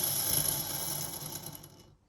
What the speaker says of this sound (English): That's a noisy, noisy bearing.